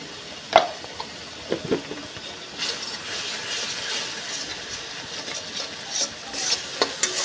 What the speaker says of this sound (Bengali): যেহেতু আলু আর বেগুনটা ভাজা হয়ে গেছে, তার জন্য হালকা করে কষাবো